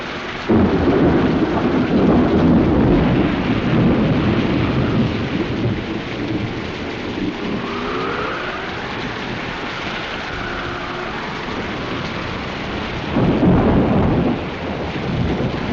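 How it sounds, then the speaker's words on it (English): A heavy thunderstorm with pouring rain pounds steadily while low rumbles of thunder roll in and swell louder near the start and end, loud and continuous with no voices. "It's too dangerous in the storm."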